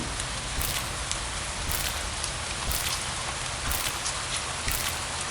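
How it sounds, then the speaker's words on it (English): Heavy rain pours down in a steady, dense hiss with occasional brief surges, close and continuous, with no voices. "That sound of heavy rain."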